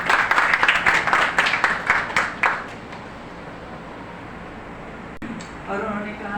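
An audience bursts into applause at an Urdu poetry book launch, dense clapping for about two and a half seconds that fades out, followed by quiet room tone and then a voice beginning to speak.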